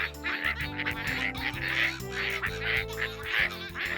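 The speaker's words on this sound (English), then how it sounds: "First the ducks quack happy birthday to Boomer." Cartoon ducks quack a happy birthday greeting in a rhythmic string of loud, nasal quacks set over a bright, steady musical backing, repeating about every half second.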